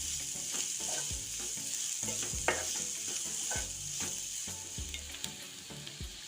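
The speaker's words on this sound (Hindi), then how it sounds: "ये मैंने 2 मीडियम साइज के प्याज काट लिए हैं महीन महीन। इसे भी हम अच्छे से भून लेंगे।" Two medium onions, finely chopped, sizzle steadily as they fry in a pan for a cashew curry. A spoon scrapes and stirs them in repeated strokes over a constant hiss. No one speaks.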